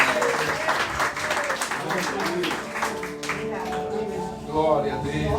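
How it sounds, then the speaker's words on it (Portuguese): A church congregation applauds during an evening worship service, with steady sustained clapping mixed with voices and some musical tones throughout. "E a igreja aplaude o Senhor"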